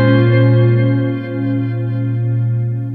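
Guitar sustaining through a Belle Epoch Deluxe tape echo pedal on Echo Program 5, a loud, lush, wide wash of repeating echoes with gentle modulation swelling and fading, no voices.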